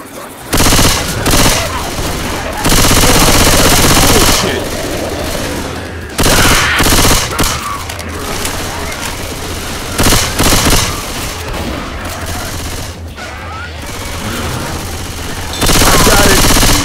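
Gunfire in the video game Left 4 Dead 2: loud, dense bursts of automatic weapons fire with booming shots, broken by brief pauses between volleys.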